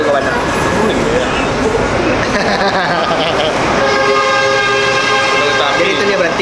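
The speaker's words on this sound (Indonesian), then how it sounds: "saya lihat kereta api lewat di belakang rumah aku kawan" A train passing behind a house near Pasar Bualong station, its horn tooting loudly over the rumble of the cars, with people talking throughout.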